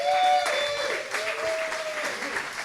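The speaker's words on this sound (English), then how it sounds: "let's give a big cheer for Dwight." Audience applause at a real estate round table event, a steady wash of clapping across the whole short stretch, fairly loud and close, with a faint voice or tone faintly underneath.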